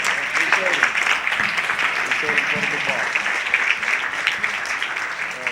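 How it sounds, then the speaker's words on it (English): A congregation claps at a livestreamed religious gathering, steady mixed hand clapping heard close while someone speaks over it. "Give Mr. Yahuwah another hand clap"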